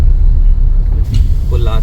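A Tata Safari SUV being parked at a service centre, a loud low engine rumble close by, with someone speaking over it toward the end.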